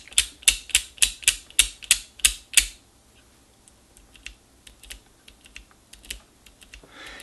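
Greased NuTone intercom room control switch being worked, a quick run of about eight sharp clicking snaps, then quieter scattered ticks and clicks, close up with no talking.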